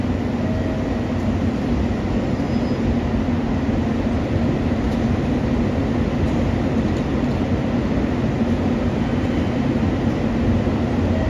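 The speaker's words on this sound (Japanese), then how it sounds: "まもなく2番乗り場に17時49分発普通列車鶴崎方面待機行きが4両編成で入ります。" A four-car local train arrives at platform 2 of Oita Station, giving off a steady, continuous low rumble with no clear breaks throughout.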